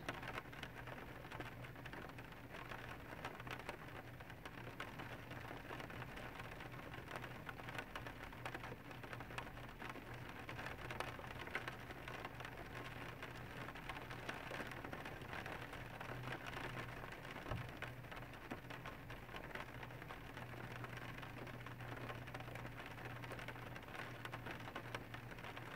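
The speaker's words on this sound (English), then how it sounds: "You could just listen to the rain, and it's kind of a nice sound." Steady rain falling outdoors, a soft, even patter and hiss that continues unbroken and fairly faint throughout, with no voices over it.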